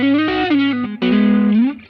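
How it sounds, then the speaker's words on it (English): Guitar run through an Ampeg Liquifier chorus effect on a Line 6 Helix, with sustained, shimmering chorused notes that bend and change pitch, loud and close, without any talk. "So that is the Ampeg liquefier"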